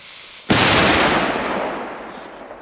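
A heavy firecracker double charge, two going off at once, blasts in one sharp, loud bang, followed by a long, fading rumble and crackle.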